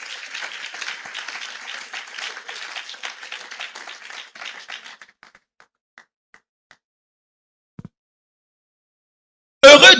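A church congregation at a Sunday service claps together in a dense burst of applause that thins to scattered claps and fades into silence, followed by a brief loud rustle at the end.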